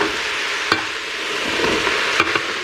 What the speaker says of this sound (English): Now we have to mix it well so our onion won't burn